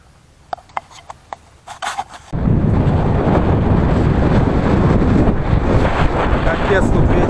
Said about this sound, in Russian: Капец, тут ветер.